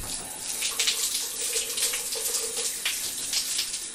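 Water streams steadily from a tap at close range, a continuous hissing gush with no break and no voices over it.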